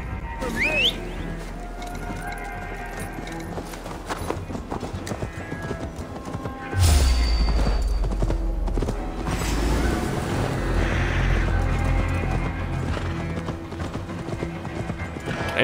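Rapid rhythmic hoofbeats of a galloping horse pound close by in Assassin's Creed Valhalla, with a whinny and a heavy thud midway, under occasional talking.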